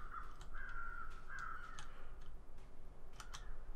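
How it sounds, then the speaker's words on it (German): Crows cawing while circling over a corpse in the survival game The Long Dark, three drawn-out harsh caws in a row followed by fainter scattered calls, heard over a low steady wind-like ambience. "die Krähen kreisen ja dennoch weiter hier über die Leiche, ne?"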